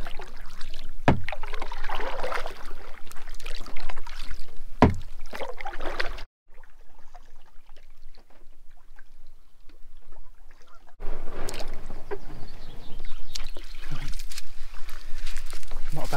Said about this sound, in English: I can't hear anything else other than the sounds of nature and Johnny paddling.